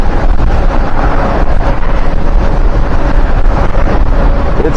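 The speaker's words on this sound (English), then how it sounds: "It's really windy out here" Strong wind buffets the microphone in a continuous loud roar throughout a ride on a 72-volt Revv1 electric bike on the streets, with no talking.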